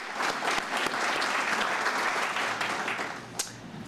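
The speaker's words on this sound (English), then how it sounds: "Could we give him a round of applause?" An audience at a small-town State of the Town address in Vinton applauds with steady, full clapping that carries for several seconds and then fades slightly.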